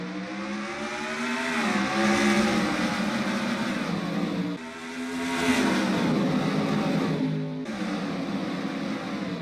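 Race cars roar off the start of a NASCAR-style race in Mexico in a racing video game, a dense, sustained engine howl that surges loudly, dips briefly twice, then swells again.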